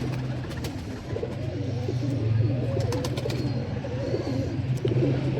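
Pigeons coo softly in a low, continuous burbling chorus, close by and steady, with faint light rustles and no speech.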